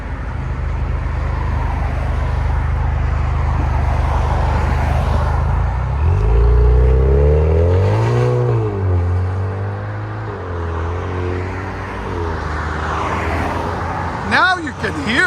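Exhaust of a 2024 Hyundai Sonata N-Line with a 2.5L engine and Valvetronic valves open, giving a loud, steady drone with a rising rev around the middle and people talking over it.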